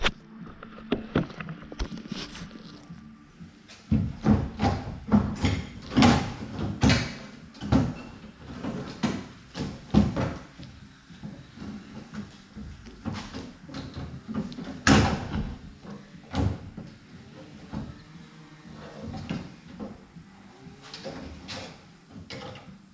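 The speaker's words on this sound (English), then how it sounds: "So this vent window should just lift right out of here." A vent window is lifted out of a 1965 Ford Mustang door, making a series of sharp metallic clunks, knocks and rattles at irregular intervals, close by and fairly loud.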